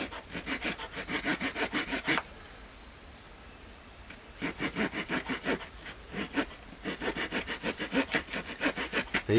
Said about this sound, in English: I'll go ahead and cut that in with a multi-tool here